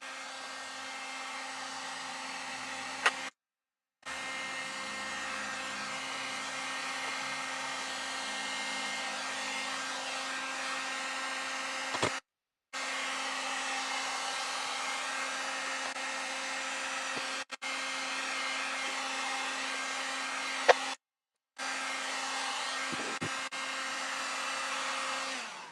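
A hair dryer blows steadily to dry Pentart concrete effect paint, a constant close whine that cuts out briefly three times before resuming, with no talking over it.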